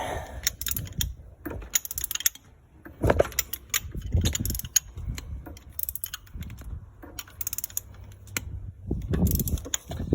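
A hand ratchet works the crank of a Ford Falcon engine in a series of close, irregular clicking bursts with short pauses between strokes.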